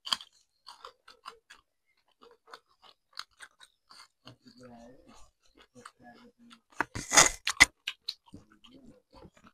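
Someone eats food with green chili at close range during a mukbang, making sparse wet chewing clicks and brief crunches, with a louder burst of bites near the end.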